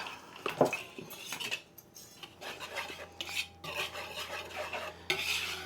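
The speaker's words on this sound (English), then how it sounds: "We're going to give that a good whisk." Whisk scraping and clinking in a bowl of dry baking ingredients with a teaspoon of salt, a busy run of quick metallic stirring taps that stays close and moderately loud, with no talk over it.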